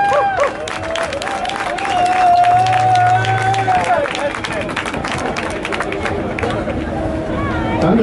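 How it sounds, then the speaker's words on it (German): Crowd applause and cheering at an outdoor cannabis-legalisation rally, a broad continuous wash of clapping and voices, with a whistle-like tone running through the middle. "Einen dicken Applaus bitte."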